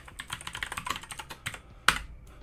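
Rapid irregular keystrokes on a computer keyboard during web development work, a quick burst of close clicks ending in one louder key strike, with no talking.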